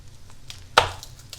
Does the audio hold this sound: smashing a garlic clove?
yes